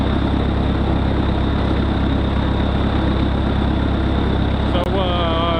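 An old tractor's engine idles steadily and close by as a constant low drone, with a faint tonal whine entering near the end.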